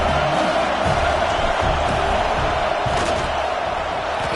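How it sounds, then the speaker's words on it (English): A loud, dense stadium crowd roars continuously as the field goal unit lines up for a kick in the college football video game NCAA Football 26, with a steady wash of cheering and no clear breaks. "This crowd trying to do its part to get inside the kicker's head."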